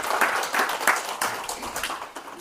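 An audience at a Buddhist Diamond Sutra talk at a Korean Seon centre claps steadily for a couple of seconds, a dense patter of many hands filling the room with no voices over it.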